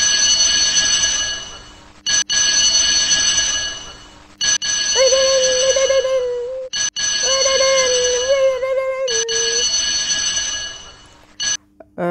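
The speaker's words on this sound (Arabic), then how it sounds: "رن الهاتف" A telephone rings in loud repeated electronic bursts separated by short gaps, with a faint melodic tone under some of the rings; no one speaks.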